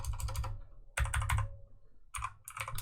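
Typing on a computer keyboard, three close bursts of rapid clicky keystrokes separated by short pauses, alone without talk.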